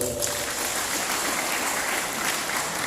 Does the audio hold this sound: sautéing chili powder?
no